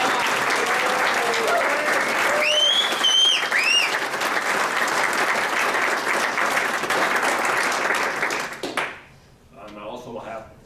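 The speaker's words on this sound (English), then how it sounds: "I think we all owe Tim Harris a big round of applause" Sustained applause from an audience at a water polo alumni dinner, loud and dense for about eight seconds, with a few whistles or cheers on top, then dropping away to quieter room noise.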